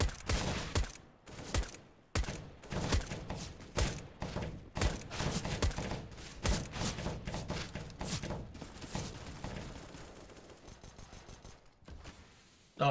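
Rapid machine-gun fire from a Negev in a first-person shooter game hammers in dense, loud bursts of repeated shots with brief breaks, thinning toward the end and without voices.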